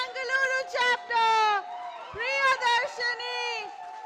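A crowd cheers at the Harmony 2021 event, with voices breaking into loud, bursting shouts and whoops in several waves, close and lively with short gaps between bursts.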